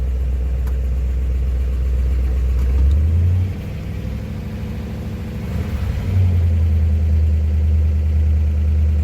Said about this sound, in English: Bringing the idle down.